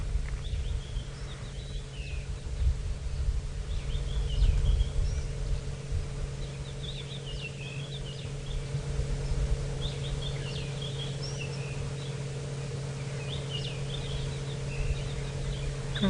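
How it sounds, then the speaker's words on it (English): Scattered harsh calls of crested francolins ring out repeatedly over a steady low hum, coming in short bursts from a distance during an evening safari drive. "There's crested francolins calling in the background."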